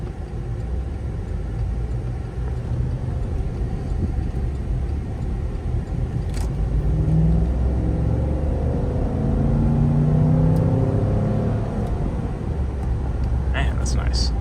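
A 2012 Cadillac Escalade drives along with a steady low engine rumble and road noise that swells as it accelerates, heard from inside the cabin, with a few faint clicks near the end.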